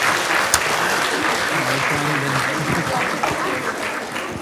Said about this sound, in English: We want to just give a big round of applause and convey our thanks to them.